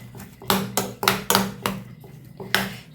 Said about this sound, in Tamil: உருளைக்கிழங்கு பாருங்கள் நல்லா வெந்துருச்சு. இதிலே மசிச்சு விட்றலாம்.